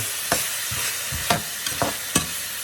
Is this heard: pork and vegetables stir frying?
yes